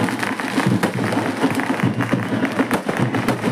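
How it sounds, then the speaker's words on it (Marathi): A crowd in Chhatrapati Sambhajinagar applauds to welcome Social Justice Minister Sanjay Shirsat and minister Atul Save, a dense, continuous roar of clapping that stays loud throughout. "जोरदार टाळ्या वाजवायच्या, टाळ्यांच्या कडकडामध्ये यांचं स्वागत आपण करतोय।"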